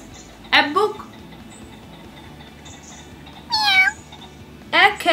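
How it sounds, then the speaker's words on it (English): A cartoon cat gives three short, separate meows: one near the start, one mid-clip and one at the end, against a quiet background. "Meow. A cat."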